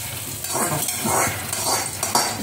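Ridge gourd being sautéed in a little oil in a pan, with a steady close sizzle and soft, rhythmic scraping strokes as it is stirred.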